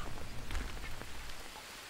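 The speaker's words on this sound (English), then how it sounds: "It's rainy outside, but that's okay." Steady rain patters across a jungle setting in the survival game Green Hell, a dense, even hiss of drops that holds at the same level the whole time with no voices.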